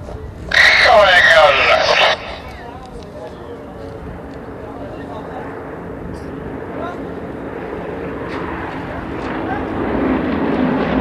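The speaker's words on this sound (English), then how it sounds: "As the aircraft roll away from them, they have to increase power, pull the nose up" Yak 50 aerobatic aircraft of the AEROSTARS team fly in formation at an air show, a distant engine drone that swells slowly toward the end, after a short burst of louder crowd or announcer noise.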